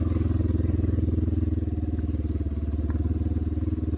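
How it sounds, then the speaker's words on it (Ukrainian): A Kovi Max 300 enduro motorcycle engine idles and burbles steadily, with a loud, rapid exhaust pulse throughout and no talking. "Ну стіпуха тут дуже шумна."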